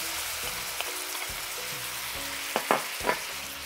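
Vegetables fry in a wok for a shrimp and rice dish, giving a steady close sizzle with a few sharp clinks and scrapes as they are stirred, with no talk.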